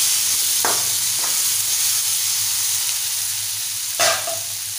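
Drumsticks and potatoes for a Malvani-style curry sauté in an uncovered pan, giving a constant sizzling hiss with a few sharp spatula scrapes and clinks, one louder near the end, and no talk.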